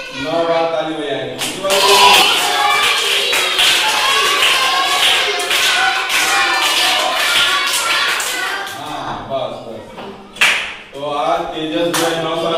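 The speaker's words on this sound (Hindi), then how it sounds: "सब लोग जो है 9 बार ताली बजाएंगे" Primary school children clapping together in a classroom birthday celebration, sharp group claps breaking through lively overlapping children's and adult voices.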